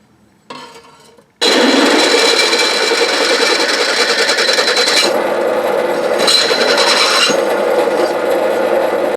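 A step drill bores and widens a hole to 10 mm, then chamfers the edge with its 12 mm shoulder for a motorcycle coat hook rack, a brief start followed by a loud, steady grinding whir with slight shifts in pitch.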